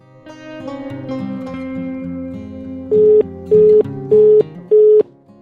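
Four short, loud electronic beeps in an even rhythm, like a phone's busy tone, following a stretch of sustained tonal hum.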